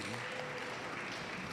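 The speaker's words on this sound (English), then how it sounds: "So let's applaud Authentic again." Applause from the audience at a local selection event, a dense wash of clapping that stays steady and moderately faint for the whole stretch, with no voices on top.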